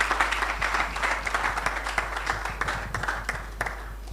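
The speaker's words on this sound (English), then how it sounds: "Round of applause, please." An audience at a church law-career event breaks into dense, continuous applause, many hands clapping together at a steady level from start to finish, with no voices.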